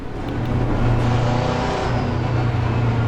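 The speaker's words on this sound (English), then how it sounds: "So let's get to driving." Race car engine in Assetto Corsa Competizione on the Nordschleife, a loud, steady droning roar that builds slightly and holds throughout, with no talk over it.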